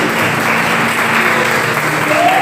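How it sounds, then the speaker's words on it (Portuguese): Congregation at a church workers' gathering applauding loudly and steadily, a dense wash of clapping hands filling the room for the whole stretch. "Aplauda Jesus bem forte"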